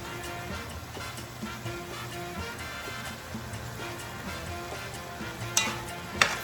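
Dark squid-ink sauce with garlic powder sizzles steadily in a pan for a Puerto Rican ham and seafood rice, a continuous close frying hiss with a few sharper spoon clacks from stirring near the end.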